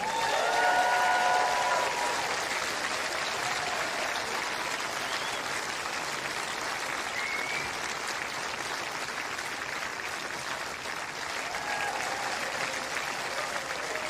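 A crowd at the 2021 Nottingham tennis final applauds champion Johanna Konta with sustained, dense clapping throughout, joined by a few faint whistles and cheers.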